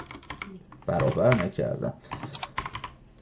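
Keys clatter on an English-layout computer keyboard as Python code is entered. Quick clicks sound close, mixed with someone speaking briefly over them.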